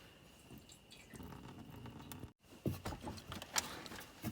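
Old coolant drips out of an R56 Mini Cooper S while the system drains, with scattered small drips and a faint trickle of liquid close by, no voices.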